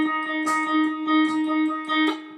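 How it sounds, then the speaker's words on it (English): Electric guitar notes are held and picked in a simple instrumental passage, heavy delay and reverb making each pluck ring out and repeat in a sustained wash; loud and close, no talk. "So I definitely have a lot of delay on here and a lot of reverb,"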